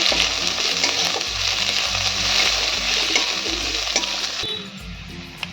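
Thinly sliced onion fries in oil until reddish, with a busy, continuous close sizzle and stirring scrapes over quiet background music. The sizzle eases slightly near the end.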